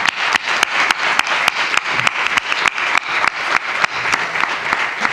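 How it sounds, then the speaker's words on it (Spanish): Audience at a book presentation event applauding, a dense run of close, sharp hand claps that stays lively and even for the whole stretch, with no voices over it. "Un aplauso."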